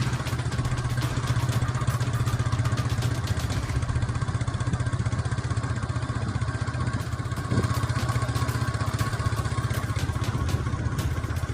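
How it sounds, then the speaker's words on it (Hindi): Motorcycle ridden through deserted night streets of Siwan with a camera operator seated on the back, its engine droning steadily and loudly up close throughout with a constant rumbling mechanical clatter. "पीछे से हम बाइक पर बैठकर रिकॉर्डिंग कर रहे हैं"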